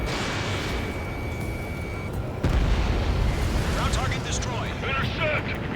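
A destroyed ground target explodes in the Ace Combat 7 flight game, a sudden deep boom cutting through steady loud jet and wind roar, followed by rumbling noise as a radio voice talks over it.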